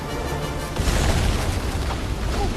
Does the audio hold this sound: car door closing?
no